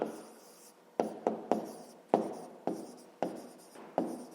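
A pen writes on paper in a maths lesson, with close, quiet scratching strokes broken by sharp taps as each new stroke begins, in an irregular rhythm and with no speech.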